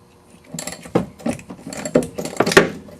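A ratchet works loose the upper control arm pinch bolt on an Audi A4 rear suspension, giving close, irregular metallic clicks and clunks in short bursts with no talk.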